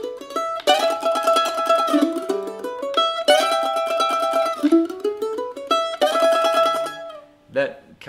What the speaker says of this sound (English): rather than lay into the tremolo, which would sound like this